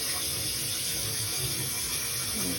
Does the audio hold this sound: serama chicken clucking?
no